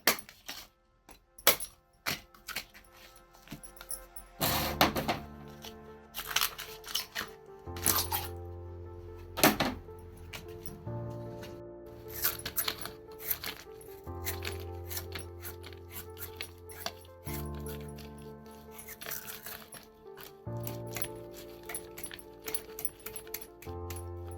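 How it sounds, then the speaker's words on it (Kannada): Tender bamboo shoots are chopped in a village kitchen, a series of sharp, uneven knife strikes and thuds with a few short pauses, close by and fairly quiet. "ಇಲ್ಲಿ ಕಣಿಲೆಯನ್ನು ಕೊಚ್ಚಲಿಕ್ಕೆ ಸ್ಟಾರ್ಟ್ ಮಾಡಿದ್ದಾರೆ"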